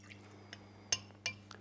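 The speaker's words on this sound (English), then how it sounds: "Pour that into your developing chamber, cover with the lid" Methanol-water eluent is poured into a glass chromatography developing chamber in a lab, giving a soft brief trickle and a couple of faint glassy clinks, quiet and close, with no talk.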